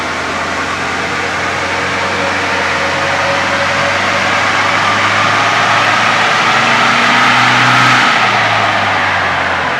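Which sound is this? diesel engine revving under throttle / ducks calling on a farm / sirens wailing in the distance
diesel engine revving under throttle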